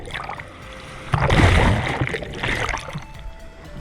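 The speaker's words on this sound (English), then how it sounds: "The waves are pumping up in here" Ocean waves surge and splash at Kelingking Beach, a loud rushing wash breaking in about a second in, then churning and fading into a lower hiss of moving water.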